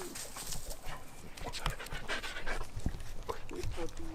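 A dog pants rapidly and steadily up close, quick breathy rhythm continuing throughout, with people talking over it.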